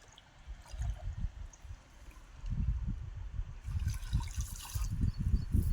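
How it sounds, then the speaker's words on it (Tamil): Fishing net being rolled up out of the water on a carp fishing outing, with soft splashes, trickles and dripping that grow busier and louder partway through, close by and without talk. "இப்போ வலையை சுருட்ட போகிறேன்."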